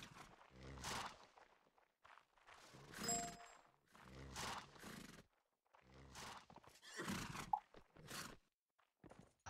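Horses in a video game battle training session neigh and whinny in repeated loud bursts, with clip-clopping hooves and occasional metallic dings between them.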